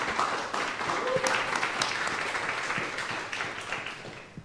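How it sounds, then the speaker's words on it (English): Short audience applause at a final arts and media event, a soft, fairly distant patter of many hands that holds steady and then tapers slightly. "Maybe a short applause."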